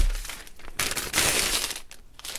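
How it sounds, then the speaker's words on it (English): A diamond painting kit slides out of a plastic bag sleeve, giving close-up crinkling and rustling of thin plastic in a few uneven bursts. "So let's take it out of the sleeve."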